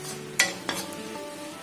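Turmeric and salt fry in hot oil with a soft, steady sizzle, broken by two sharp scraping strokes of a stirring spoon in the pan.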